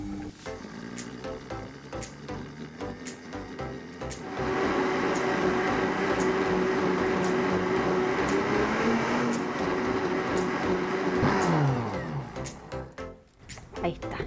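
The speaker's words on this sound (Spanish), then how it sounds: "Y ahora vamos a licuar." A blender runs on ginger salad dressing for several seconds, a steady loud motor whir whose pitch dips slightly before it winds down, starting after a few seconds of quiet kitchen background.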